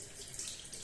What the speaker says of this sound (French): je le rince sous l'eau.